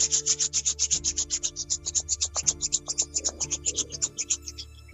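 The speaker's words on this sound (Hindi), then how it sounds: "दोनों हाथों को रब करें" Two palms rubbed briskly together in a quiet meditation setting, a steady rhythmic swishing of about two strokes per second, close and alone, with a soft tonal hum in the background.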